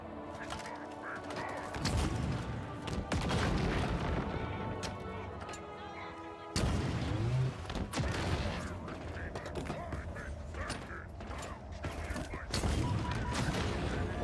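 Rocket launcher blasts and combat noise from Halo Infinite, with booming explosions that break sharply around the middle and keep rumbling through a busy, moderately quiet battle mix.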